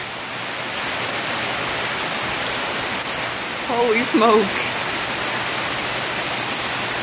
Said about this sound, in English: Can it rain more?